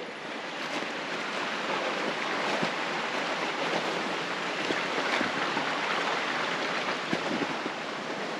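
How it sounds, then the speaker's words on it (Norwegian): A small forest stream in Norway trickles and babbles steadily nearby, a continuous, even wash of running water with no voices over it. "Her er vi bekken, her er vi sildrer."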